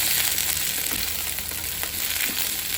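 Chopped radish and fresh green peas with a green chilli fry in a pan, giving a steady close sizzle with occasional soft scrapes and clinks as they are stirred, no voices.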